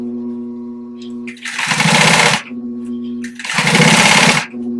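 A sewing machine stitches in a new zipper during a full zipper replacement, two loud, close bursts of rapid needle clatter about a second each, separated by a quieter steady motor hum.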